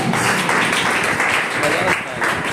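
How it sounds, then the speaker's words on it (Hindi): Church congregation applause, a dense steady wash of clapping with a voice speaking over it. "ये तालियां बोलो प्रभु जी आपके लिए"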